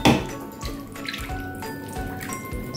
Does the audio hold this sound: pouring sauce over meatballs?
yes